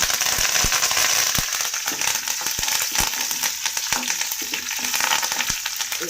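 Curry leaves dropped into hot oil for a puliyogare tempering crackle and sputter loudly, with dense continuous sizzling broken by sharp popping bursts throughout.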